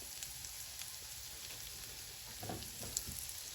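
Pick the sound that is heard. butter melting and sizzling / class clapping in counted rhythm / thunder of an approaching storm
butter melting and sizzling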